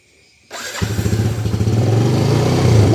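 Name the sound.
Yamaha motorcycle engine starting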